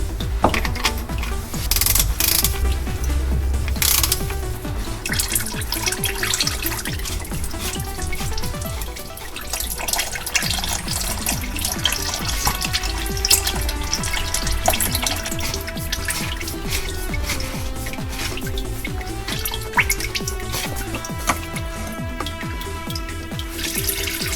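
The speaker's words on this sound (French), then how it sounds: "Au moment où on retire le filtre à huile, regardez combien d'huile sort encore." Engine oil gushes from the removed oil filter mount of a Renault Twingo 3 during servicing, a continuous close pouring and trickling stream with occasional light metallic clinks.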